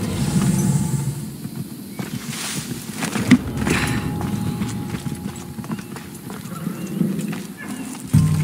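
Horses at the stables in Assassin's Creed Odyssey, with steady hoof clip-clops and shuffling footsteps over a continuous outdoor ambience, plus a few brief thuds.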